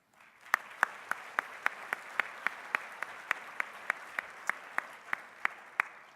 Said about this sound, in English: we should give a round of applause to Kim